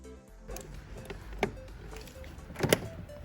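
A leaky ABC suspension shock on a Mercedes R230 SL55 being fitted, with a couple of sharp snaps as the part clicks into place, close and fairly quiet against light workshop noise.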